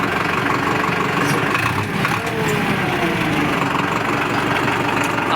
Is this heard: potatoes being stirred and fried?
no